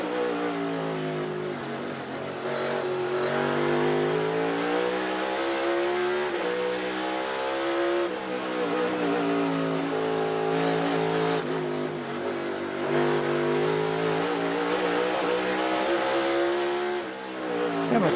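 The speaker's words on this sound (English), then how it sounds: "Having to play with that throttle a little bit there, headed into turn 1." A NASCAR stock car at Sonoma Raceway during 2022 qualifying, its engine revving hard and loud on throttle, with pitch rising and falling as the driver modulates power into a turn, steady and close throughout.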